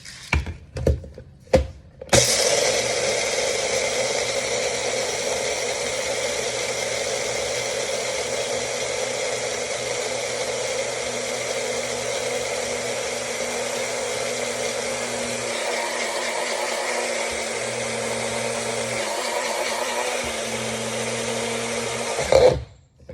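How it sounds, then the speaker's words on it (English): A Magic Bullet blender grinds about a cup of dry lentils into flour, its loud steady motor whir running continuously for around twenty seconds after a few short bumps, with slight pitch shifts partway through, then cutting off. "Then I'm gonna use my magic bullet, obviously."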